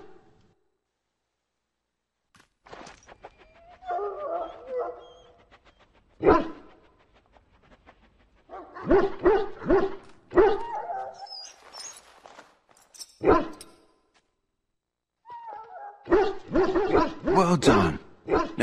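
A dog in the video game Dragon Age Origins whimpers and lets out several sharp barks and yips in uneven bursts, close and fairly loud, with pauses of silence between them.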